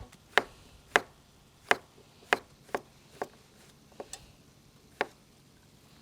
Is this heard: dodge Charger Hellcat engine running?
no